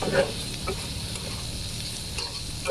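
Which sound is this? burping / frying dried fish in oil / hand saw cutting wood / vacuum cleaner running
frying dried fish in oil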